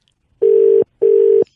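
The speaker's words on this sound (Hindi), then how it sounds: "घंटी बज रही है भाई साहब।" Telephone ringback tone on an outgoing call, two loud steady electronic beeps in quick succession, each just under half a second long, heard alone with no talking.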